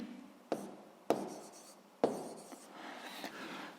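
Pen scratching out a physics formula on paper, three firm strokes followed by lighter scribbling, close and quiet with no voices.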